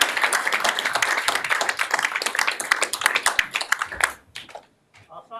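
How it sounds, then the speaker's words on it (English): An audience at an astronomy society meeting applauding, a dense crowd clapping that thins out after a few seconds into a handful of scattered, separate claps. "Another round of applause."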